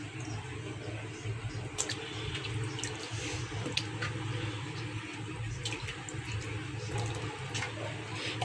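Tap water runs steadily into a pot, with a constant rushing flow throughout and occasional faint clicks and splashes.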